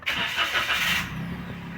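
A car with a lit check engine warning being started: a short crank-like burst of broadband noise for about a second, then the engine settles into a steady low idle hum, close and fairly loud.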